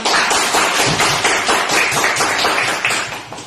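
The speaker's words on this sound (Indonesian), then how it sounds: "Saya pengen tepuk tangan." An audience at an Indonesian public speaking talk claps hands in a dense, steady burst of applause lasting a few seconds, loud and close, with no talking over it.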